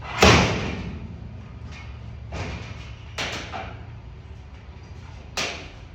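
On a 1948 Chevrolet five-window pickup with a worn door handle, the door is slammed several times, each a sharp, loud thud. Quieter clicks and rattles from the handle being worked come in between.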